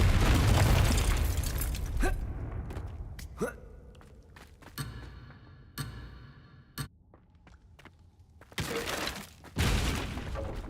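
Confringo blasting spells from a wizard video game strike in sharp cracks scattered through quiet ambience, followed by two heavy booming bursts near the end.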